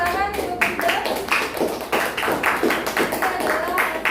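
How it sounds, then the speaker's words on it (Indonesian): Classroom applause for a student's group presentation in a teacher performance assessment lesson on the circulatory system, a steady run of hand claps from a small group lasting several seconds, with a voice talking over it. "tepuk tangan untuk Mifda"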